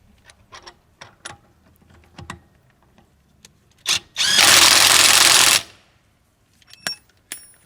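A cordless VTEK impact wrench with a half-inch anvil runs in one loud, close burst of about a second and a half while tightening, surrounded by quiet clicks and handling taps.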